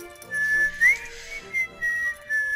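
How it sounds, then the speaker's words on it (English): A character in the video game The Book of Unwritten Tales 2 whistles a clear tune of several short notes, loud and close, with no talk over it. "Whistles."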